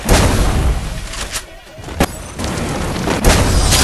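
The Charge Buster gun fires in a mobile shooter game as repeated heavy booming blasts, loud and close, with a brief lull in the middle.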